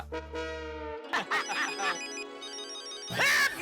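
A mobile phone ringtone plays as a bright electronic melody, loud and close, with tonal notes shifting in pitch and a louder burst near the end, in a sitcom household scene.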